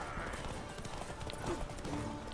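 Horse hooves clip-clopping in The Witcher 3 video game, a fast repeated galloping patter over game noise with a faint whinny, all fairly quiet.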